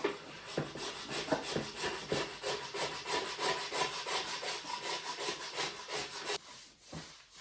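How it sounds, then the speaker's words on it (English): A scraper drags across a snowboard base to strip off baked-in wax, making loud, rhythmic rasping strokes in a regular back-and-forth pattern that stops near the end, close up and with no speech. "So you can start scraping it. You're going to be scraping it for a while."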